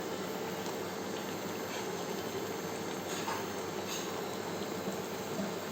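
A lentil fritter curry bubbles in a pot on a gas stove, producing a steady, dense hiss and simmer that holds evenly throughout, with no talking.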